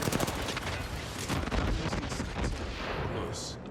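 Dense gunfire from the battle royale game Apex Legends crackles nonstop in rapid bursts, loud and close, with players talking underneath.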